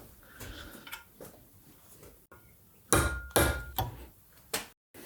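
A hammer strikes a metal rod in a homemade bird-cage tool for motorcycle control cables, sharp close metallic taps in an irregular series with a few heavier hits, alone without talk.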